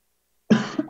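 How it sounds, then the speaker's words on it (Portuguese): A single cough bursts out abruptly after silence during a children's Bible class held over video conference, loud and close, with a short second rasp trailing it. "Ai, desculpa, deu uma tossidinha aqui."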